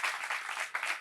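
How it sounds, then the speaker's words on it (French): An audience at a French-language talk event applauds steadily, a dense burst of clapping heard alone. "Merci d'applaudir plus fort que cela notre expert"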